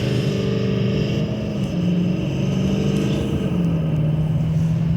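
A 2019 GMC Sierra 3500 Denali Duramax diesel repo wrecker truck accelerates hard, a loud continuous low engine drone with rising tones as it shifts through gears, heard from inside the cab.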